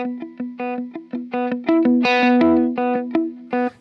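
Electric guitar played through a compressor pedal on a worship pedalboard: a steady run of evenly levelled, sustained plucked notes with a full, smooth attack, close and clear with no talking.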